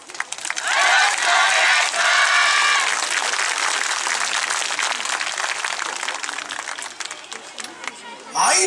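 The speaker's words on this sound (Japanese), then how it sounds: "温かな拍手応援よろしくお願いします" Audience applause at an outdoor YOSAKOI festival main-stage dance performance: a dense, steady wash of many hands clapping with crowd voices and shouts mixed in, fading slightly toward the end.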